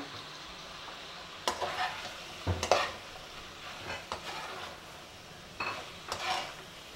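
Chicken pieces frying with chopped onion, capsicum and three green chillies, with a low sizzle beneath repeated scraping and clinking of a spatula stirring in the pan, several distinct stirring strokes, no talking.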